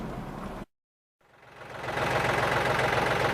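A John Deere tractor with a canopy idles with a steady, low, rumbling throb. The sound cuts out briefly, then swells back to a constant close drone.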